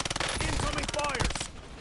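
Rapid automatic gunfire from a firefight in the Warzone video game, a dense run of close, loud bursts for most of the moment before tailing off, with a faint voice mixed in.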